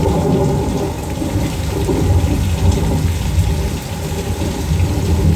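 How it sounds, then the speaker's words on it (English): Water sprayed high into the air so it falls back like rain makes a dense, continuous hiss and rumbling patter, loud and steady throughout with no voices. "It falls back down to the earth naturally because gravity, and it looks like rain."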